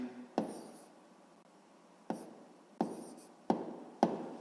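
Pen strokes on paper during a sixth-grade maths exercise, several separate bursts of writing with pauses between, close and fairly quiet, no talk.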